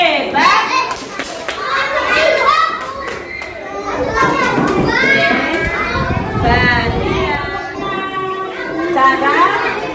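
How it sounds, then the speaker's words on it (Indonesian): A class of young children chants and claps together in the "Tepuk anak hebat" routine, lively voices with rhythmic hand claps throughout, loud and near, with overlapping child speech. "Tepuk anak hebat"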